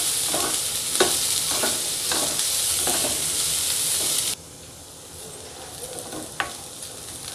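Vegetables including chopped carrot sauté in a pan for soya momos, a dense sizzle with rhythmic spoon scrapes about every half second that abruptly drops to a quieter simmer with an occasional clink.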